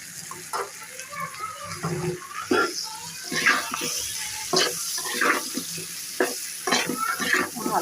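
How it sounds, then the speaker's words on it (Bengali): Cut potatoes and egg fried in a pan over medium heat for a morning bhaji: soft, wet sizzling under repeated scraping strokes of a spatula, close and uneven in rhythm. "ভালো করে নেড়ে চেড়ে মিডিয়াম আঁচে এটা করে বেশি নাড়বো না, এটা অল্প করে নাড়বো।"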